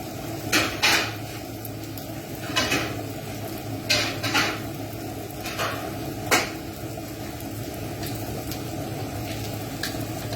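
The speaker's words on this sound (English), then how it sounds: "You can hear the sizzle there" Breaded chicken burger fillets sizzle in a frying pan with a steady hiss, broken by a few soft clinks and taps of utensils against the pan.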